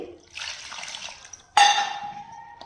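Water splashes and streams into a metal vessel in two bursts, the second louder with a rising ringing tone as the pot fills, soaking jowar (sorghum) for papad.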